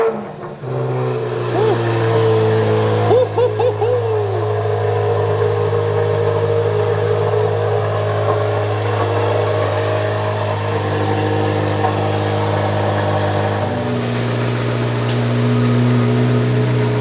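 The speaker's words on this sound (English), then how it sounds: "I'm sure you guys would like to see a cold startup." A 2025 Corvette Z06 engine cold-starts with a sharp bark and then holds a loud, steady high idle, dropping to a lower idle near the end; close and continuous with no talk.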